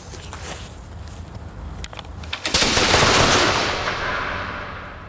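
A matchlock musket fires a single loud, sharp shot midway, its blast rolling into a decaying rush of noise after faint preceding clicks and rustles.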